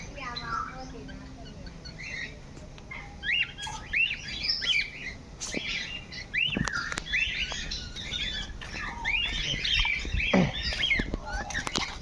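Many birds in the bird section of Pradhyuman Park zoo in Rajkot chirp and call continuously, a dense overlapping chorus of bright tweets with occasional rustles and clicks, close and fairly loud.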